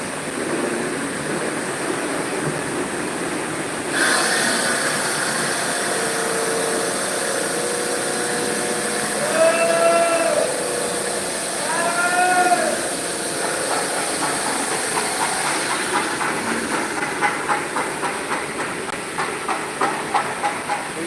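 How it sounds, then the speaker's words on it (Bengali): A polishing machine runs with a continuous loud hiss and mechanical hum, which grows fuller after a few seconds. Brief whining tones rise twice around the middle, and a faint rhythmic clatter comes near the end. "হচ্ছে পালিশ মেশিন যেটা পালিশ করা হচ্ছে"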